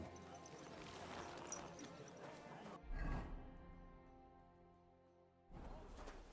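Horse hooves clip-clop in the video game Kingdom Come: Deliverance II, a steady plodding beat at middle distance that drops out briefly mid-way under music and returns, with a voice speaking over it.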